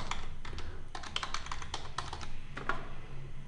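A password is typed on a computer keyboard, a close, quiet run of separate key taps in an uneven rhythm with short pauses between bursts.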